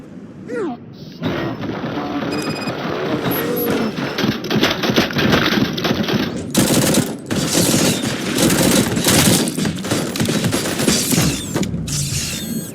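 Gunfire in the RoboCop: Rogue City video game: sustained, loud automatic bursts and clattering mechanical shots layered with game effects, running continuously over most of the stretch after a short spoken line.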